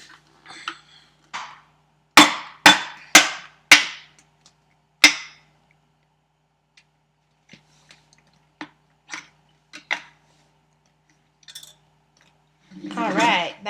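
Sharp hammer blows knock out the small plastic dishwasher inlet plug on a garbage disposal: four or five loud, close cracks in quick succession, then scattered lighter taps and clicks, ending in a brief rattling scrape.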